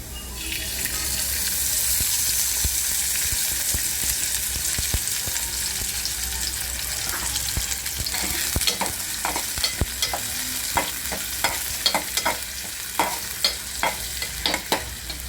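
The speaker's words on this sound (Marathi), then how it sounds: "पॅनमध्ये आता हे आपण कांदा टाकलेले ओके आता यामध्ये आपण तेल टाकणार आहोत" Chopped onion frying in oil in a pan for a potato bhaji, giving a steady close sizzle that continues throughout, with sharper spatula scrapes and taps growing more frequent in the second half. No one speaks.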